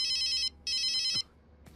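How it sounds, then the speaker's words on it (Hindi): A mobile phone ringtone sounds loud and close in two bright electronic bursts with a short gap between them, then stops, leaving quiet room tone. "फोन बज रहा है तेरा।"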